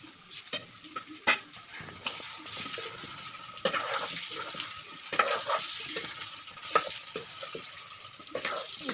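Duck curry being stirred in a pan with potatoes, giving a steady frying sizzle broken by repeated scraping and clatter of the spoon, fairly close and without speech.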